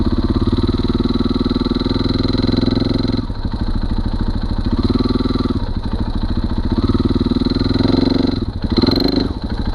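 A motorcycle fitted with a Rekluse clutch climbs over rocks with its engine loud and close the whole time. It holds a steady idle-like drone and rises in a few revving surges as the clutch engages and the bike pulls up.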